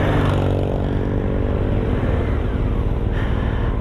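A Yamaha Tenere T7 motorcycle engine runs nearby with a steady, dense low rumble and no clear revving or pauses.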